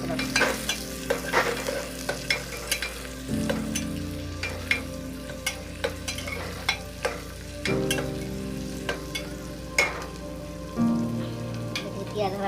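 Onions fry in a pan with cumin, hissing and sizzling steadily while a spoon scrapes and stirs in repeated sharp strokes.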